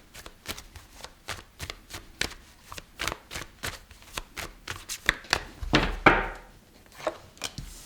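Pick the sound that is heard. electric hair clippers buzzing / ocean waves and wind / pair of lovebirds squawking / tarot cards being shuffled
tarot cards being shuffled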